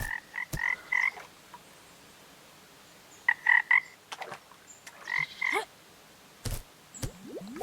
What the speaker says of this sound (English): We've got some frogs down here.